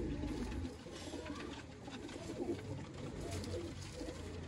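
Pigeons, including Kasuri and Sialkoti breeds, coo softly in a low throaty murmur beneath steady background hiss and rustle, faint and continuous, without voices.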